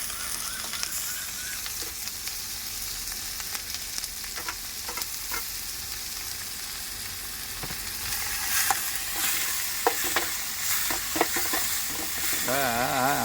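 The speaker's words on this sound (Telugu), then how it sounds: "తర్వాత నెక్స్ట్ వచ్చి టమాటాలు వేస్తున్నాడు." Tomatoes sizzle loudly in hot oil in a pan while a spoon stirs them, with steady frying hiss and intermittent scraping clinks, cooked inside a parked lorry.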